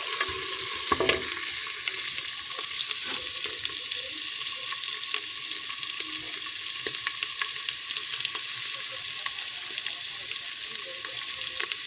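Onion and garlic sautéing in oil for rice kabsa crackle and sizzle continuously at close range, with light stirring knocks scattered through the steady hiss.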